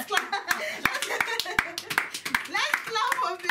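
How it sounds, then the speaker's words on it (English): Church congregation clapping in an irregular, uneven patter of sharp individual claps, fairly close, with voices talking and calling out over it. "Let's clap."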